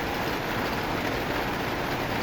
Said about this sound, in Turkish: Yağmur bu.